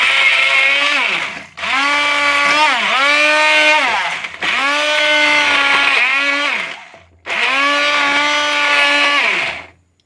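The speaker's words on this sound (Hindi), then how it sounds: "तो इसको हम पहले ब्लेंडर कर लेंगे थोड़ा सा।" Soaked dates whirring in an electric blender for a Ramzan khajoor drink: three loud bursts of motor whine, each a few seconds long, separated by brief pauses.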